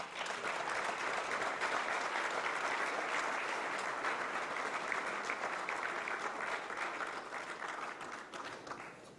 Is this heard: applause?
yes